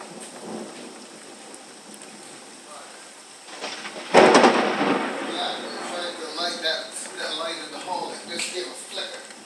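Thunder crashes during a severe thunderstorm with fierce lightning, a sudden loud crack that rolls into rumbling over steady rain, with voices talking throughout.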